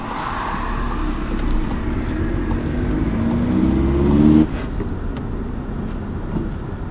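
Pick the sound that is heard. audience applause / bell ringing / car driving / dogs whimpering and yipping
car driving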